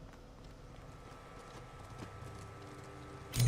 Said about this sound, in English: I'm hearing the horse.